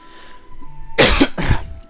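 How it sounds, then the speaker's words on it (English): Two harsh, loud coughs in quick succession, close to the microphone, after a moment of quiet background hum. "Sorry for the coughing."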